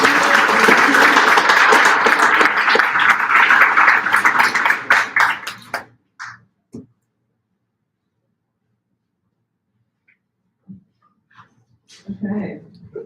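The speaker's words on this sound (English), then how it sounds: "Give it a round of applause." Audience applause at a youth design team exhibition in Nashville, loud dense clapping from a room full of people that fades out after about six seconds, followed by scattered sounds and speech.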